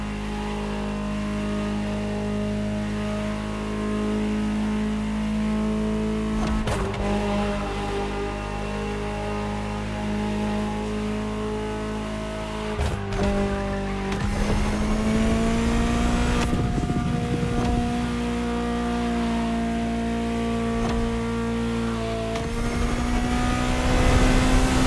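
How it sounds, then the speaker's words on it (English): A powerful Ferrari sports car engine in a racing video game drones and revs through shifting pitches, rising and falling over several gear changes, loud and continuous with no speech. "Just listen to the car you're driving."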